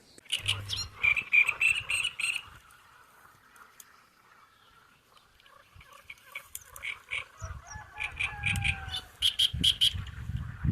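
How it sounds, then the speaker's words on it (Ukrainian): Frogs croak in bursts and choruses, several voices calling near and far, with quiet gaps between rounds of chirping croaks. "Жаби наспівають."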